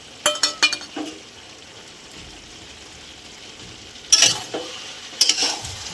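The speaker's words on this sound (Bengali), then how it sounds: "ভালো করে একটু নেড়ে নেবো।" Tomatoes and Malabar spinach with papaya and jackfruit seeds stirred in a frying pan: bursts of spatula scraping at the start and again near the end over a soft, steady sizzle.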